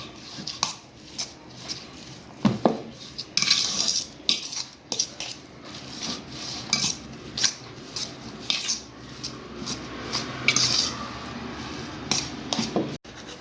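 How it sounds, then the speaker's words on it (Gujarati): Spoon mixing potato finger batter of mashed potato, pepper powder and salt in a bowl, soft squishy stirring with intermittent sharp metallic clinks against the bowl, close and without talk. "અને સ્વાદ પ્રમાણે મીઠું, આ બધું પહેલાં આપણે મિક્સ કરી લઈએ"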